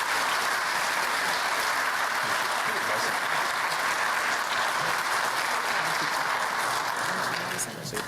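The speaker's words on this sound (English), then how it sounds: "I want to give them one big round of applause one final time" A full room at a local history awards event bursts into sustained applause, loud and even for several seconds before it begins to trail off.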